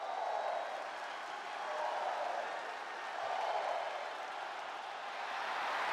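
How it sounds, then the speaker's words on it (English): A WWE 2K25 video game arena crowd cheers for a wrestler's entrance, a fairly faint, steady roar with swelling waves of cheering and some applause. "the crowd very much preempts the arrival of Lyra Valkyria"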